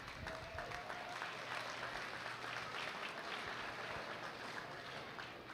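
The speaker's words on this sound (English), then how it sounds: "Let's give a round of applause to all these young people out here." An outdoor crowd at a sheep show applauds young exhibitors, producing a soft, even wash of clapping that stays at a constant level, with no talk over it.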